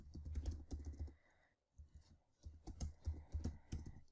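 Quiet, close typing on a computer keyboard: rapid clusters of keystrokes with a short pause in the middle, then another burst of clatter.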